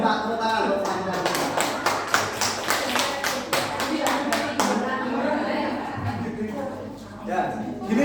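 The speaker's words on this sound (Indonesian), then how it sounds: "Tepuk tangan." Group clapping in a classroom-style teacher training session, a quick run of sharp claps for about four seconds, mixed with background chatter and laughter that continue after the clapping fades.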